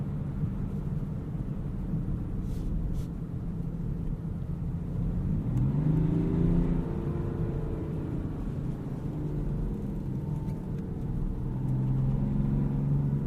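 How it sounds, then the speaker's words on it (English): A BMW X5 xDrive35d diesel engine in sport mode, driven in snow, drones steadily throughout, rising in pitch as it revs up midway, then easing and climbing again; no voices. "Put it into sport mode. It's going to give us a few more revs at the higher RPMs."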